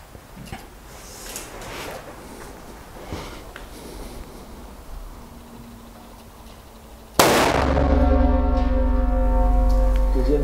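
A single loud, sharp report from a Schmidt-Rubin 96/11 rifle fired on a 300 m range, with a ringing tail. Quieter background rustle and faint handling noises come before it.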